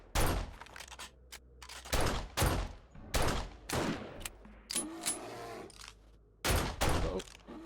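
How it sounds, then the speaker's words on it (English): Gunshots fired at a bear in the video game 7 Days to Die, several sharp loud bursts spaced irregularly with short quiet gaps between them, quiet background behind them. "I'm gonna make the shot in 3"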